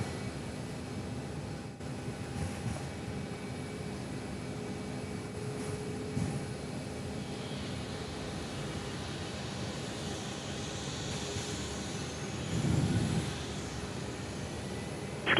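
A Velocity airliner taxiing out for departure at Perth Airport gives a steady, distant jet engine roar under broadband noise, swelling slightly near the end.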